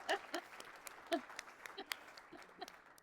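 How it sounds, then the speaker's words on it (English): Scattered claps from a conference audience at a tech panel, sparse and uneven rather than a full ovation, heard at low volume with a few sharper individual claps standing out. "Everybody give Eric a round of applause."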